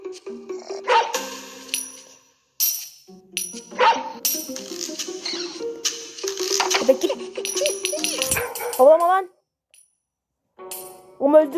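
Dog barks and yips in the game Robbery Bob come in bursts among game sound effects and rattling noises, with brief silent gaps.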